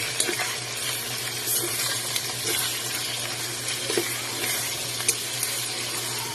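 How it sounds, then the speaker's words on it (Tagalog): Bagoong (fermented shrimp paste) frying in oil in a pan while being stirred, with a steady close sizzle, a low hum underneath and occasional scraping clinks from the stirring, no voices. "pwede natin po ilagay ang bagoong. Haluin lang natin po siya."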